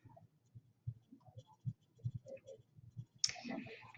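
A computer mouse clicks repeatedly, a close, quiet series of small irregular taps and clicks, ending in a brief brighter rustle.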